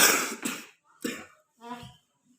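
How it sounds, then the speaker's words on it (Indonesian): A patient doing an effective cough exercise lets out two or three harsh, close coughs in quick succession, each followed by a short pause, ending in a softer rasp of breath. "Tarik nafas, tahan, batukan Pak."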